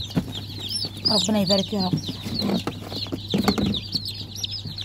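Young chicks peep in a poultry rearing space, brief high chirps repeating over a low steady hum, with hens clucking and someone speaking in the middle.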